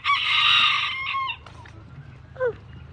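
Free-ranging backyard chickens in the rain: a rooster crows loudly and clearly near the start, followed by softer hen clucks and chirps over a low rumble of background noise.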